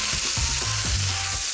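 Drained boiled gnocchi sizzling steadily in a hot frying pan, a loud continuous frying hiss with faint stirring and pan knocks, no talk.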